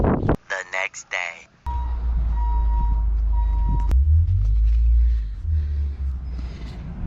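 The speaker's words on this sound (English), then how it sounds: "You guys heard the exhaust" An aftermarket exhaust on a car rumbles steadily at idle, deep and close, after a brief electronic beeping chime at the start.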